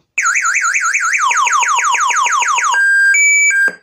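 A motorcycle anti-theft alarm blares close and loud, first a rapidly warbling siren, then a falling repeated whoop, then steady electronic beeps before stopping abruptly.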